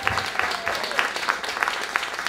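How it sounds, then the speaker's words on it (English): Audience at the grand re-opening of St. James Infirmary applauds in a steady round of clapping, with a faint voice underneath. "I just want to give Tony and St. James Infirmary, everyone, just a big round of applause"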